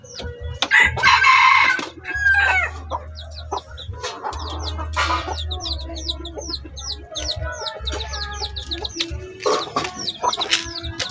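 A wild labuyo rooster crows several times close by and clucks among chirping birds, while a low engine-like drone runs underneath in stretches.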